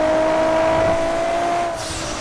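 Loud engine drone of a 2JZ-swapped Beetle in the GTA 5 video game, a steady high whine held under a constant rushing road noise for about two seconds, then easing slightly.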